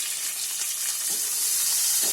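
Mustard seeds and cumin crackle and sizzle in hot oil in a pan, a steady close frying hiss with scattered small pops throughout.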